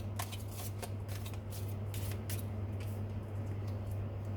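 Tarot cards being handled and shuffled close by, with soft papery riffles and slides over a low, steady background hum.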